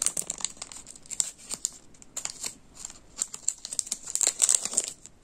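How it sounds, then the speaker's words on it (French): Adhesive tape torn and pressed onto a small plastic bag, crinkly crackling and short ripping bursts close by, continuous and fairly quiet. "je vais remettre dans son petit sachet. Et puis, je vais mettre du scotch."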